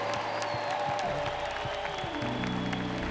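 A church congregation applauds at the close of a Catholic Mass, a soft, steady patter of clapping with faint crowd murmur and a lingering organ-like tone underneath, all heard at some distance.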